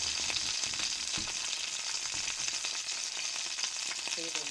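An egg fries in a tiny, cheap electric skillet, a continuous bright sizzle and crackle with scattered pops, close and steady from start to finish.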